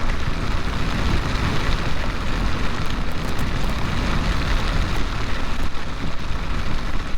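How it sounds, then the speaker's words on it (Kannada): Heavy rain pours during a road ride near Mangalore on the way to Kerala. A dense, even hiss of rain and wind rushes steadily and loudly throughout, with no speech. "ಆ ಥರ ಮಳೆ ಬರ್ತಿದೆ"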